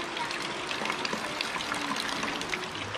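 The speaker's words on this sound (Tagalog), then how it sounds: "Ayun, umuulan na naman uli." Steady rain falling outside during the rainy season, a dense, even hiss of drops close by that continues without a break, with a faint voice under it.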